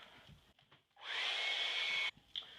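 A dryer blows on a flexible filler repair, starting abruptly with a steady loud whirring hiss for about a second before cutting off, with faint handling noises around it.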